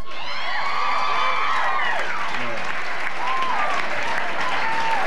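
A live show audience cheers and applauds loudly for a Girls' Night Out segment, steady dense clapping with shrill whoops and shouts rising over it throughout.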